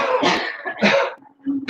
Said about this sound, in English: we're going to inhale and we're going to cough a few times.